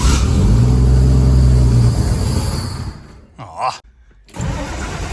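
A 1963 Plymouth Valiant's slant-six engine idles loudly and unevenly up close for a couple of seconds, then cuts out with a brief sputter before rumbling again; a person briefly exclaims.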